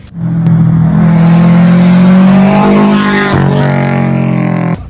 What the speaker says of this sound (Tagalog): kapag yan ay dinelete nyo na, malaki na po ang ilalakas ng tunog niyan.